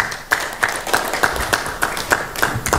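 Rhythmic clapping from a political gathering crowd, with sharp claps landing at a steady beat, about ten in a row, fairly loud and close, with no voice over them.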